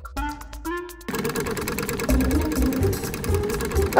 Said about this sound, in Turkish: Süpürge kaçıyor.